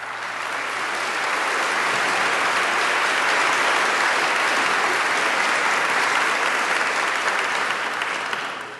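A school commencement audience applauds a speaker steadily for several seconds, a dense, loud wash of clapping that swells and then tapers off at the end.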